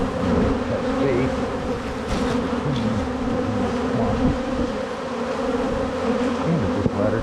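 A dense, loud bee swarm buzzes continuously close by during a swarm retrieval, a thick droning hum that never lets up.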